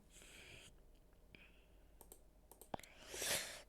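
A computer mouse clicks sharply a few times in a quiet room, with soft faint handling noises around the clicks and a brief rustle near the end.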